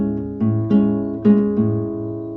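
Bossa nova guitar comping with anticipated bass notes, a few soft chord plucks over low, syncopated thumb notes in a short, sparse bar, close and without voices.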